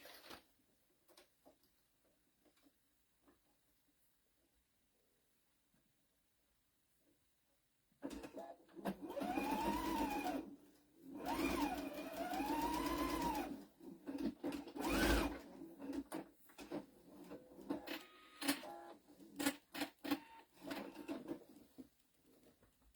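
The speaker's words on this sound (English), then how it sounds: "Then you're going to sew it. A 1/4 inch." A sewing machine sews a quarter-inch seam on quilt binding, quiet handling at first, then several loud bursts of fast motor-driven stitching with short pauses and clicks between them, close and clear.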